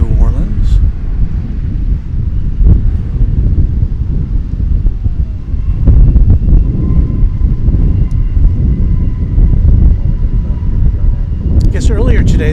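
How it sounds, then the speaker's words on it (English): An American Airlines passenger jet from New Orleans arrives at DFW Airport. Its broad, distant roar sits under heavy wind buffeting on the microphone. "Arriving now is an American Airlines flight from the Big Easy of New Orleans."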